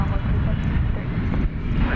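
A jet airliner at Dallas Fort Worth Airport at night sends out a loud, steady engine roar with a low rumbling underlayer, with people talking beneath it.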